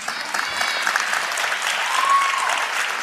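An audience at a motivational talk claps steadily, a dense even roll of applause with a few voices and a brief whistle-like tone mixed in.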